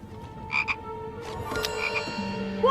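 A Chocolate Frog from a Harry Potter film croaks in a few sharp, nasal bursts over a quiet background with a faint sustained tone and no speech.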